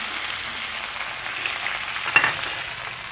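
Ginger paste fries in a pan with a close, even hiss of sizzling oil and a brief stirring scrape near the end.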